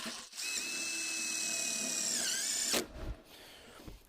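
A power drill drives a screw into a rafter hanger on a pergola kit, a steady high whine for about two seconds that dips in pitch as the screw seats, then a brief clatter, close and loud.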